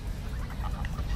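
Geese honk nearby, with several short, nasal honks scattered over a low, rumbling background of outdoor noise and no speech.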